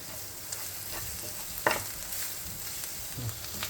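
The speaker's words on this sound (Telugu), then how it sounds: "అలా వేసుకుని దీన్ని కూడా పచ్చివాసన పోయేంత వరకు ఫ్రై చేసుకోవాలి." Ginger garlic paste frying in a pan while making dhaba-style baby potato dum aloo curry, a soft steady sizzle with a few sharp stirring scrapes and clinks against the pan, close and continuous, no talking.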